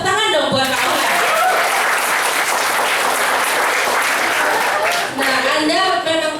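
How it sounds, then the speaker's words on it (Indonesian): Staff at a hospital's company kick-off event applaud a colleague, a loud swell of crowd clapping that rises after a voice over the sound system and gives way to speech again near the end. "Tepuk tangan dong buat Pak Ohan."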